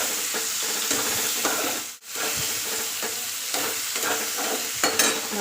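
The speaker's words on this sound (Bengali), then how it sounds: "মশলাটা ভেজে নিচ্ছি পুরো।" Spices fry for sambar in a pan, giving a continuous close sizzle broken by repeated scraping strokes of a stirring spoon, with no talk.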